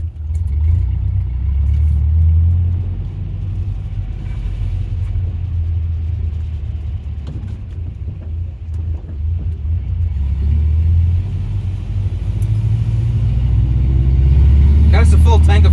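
A 1979 Subaru car with bad brakes drives around a yard, its engine a loud, close low rumble that swells as it accelerates toward the end, with people talking over it.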